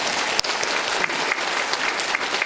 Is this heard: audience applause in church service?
yes